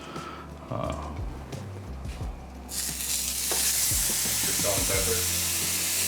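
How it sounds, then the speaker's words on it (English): 80-20 ground beef patties frying in a hot pan, a steady loud sizzle that swells as they hit the fat, with a few scrapes and clinks of a utensil along the way. "Here we have our 80-20 ground beef patties. I'm gonna go ahead and cook them off"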